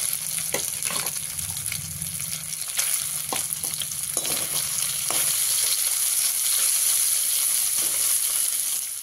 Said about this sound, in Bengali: এভাবে আমি সমস্ত সোয়াবিনগুলোকে ভেজে নেব।